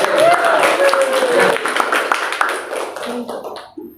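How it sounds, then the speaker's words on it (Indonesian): Classroom applause for a group of students coming forward to present, a few seconds of scattered clapping and hand taps mixed with chatter and a teacher's voice, fading at the end. "Ayo tepuk tangan dulu."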